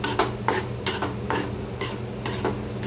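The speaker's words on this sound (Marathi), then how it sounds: "आणि हे सतत आपल्याला हलवत राहायचं आहे, नाही तर खाली थोडंसं करपू शकतं बेसन" Besan (gram flour) roasting in a pan for ladoos is stirred continuously, with rhythmic scraping strokes of a spoon against the pan about twice a second over a low, steady background hum and no speech.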